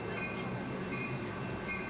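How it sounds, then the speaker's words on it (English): Cap Metro Red Line commuter train pulls into a downtown station in the evening, a steady rumbling roar of rail wheels and carriages with faint high squeals, continuous and moderately distant, without voices. "As Cap Metro's Red Line pulls into the downtown station for its final run of the evening"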